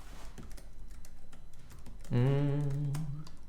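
Someone types on a computer keyboard while coding a snake game in JavaScript, producing soft, rapid clicks over a low background hum; a brief voiced tone rises near the end.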